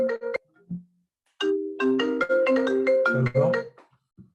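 A mobile phone ringtone plays through a computer it is connected to, a bright melodic run of stacked tones after a few short beeps, loud and close and heard without talk.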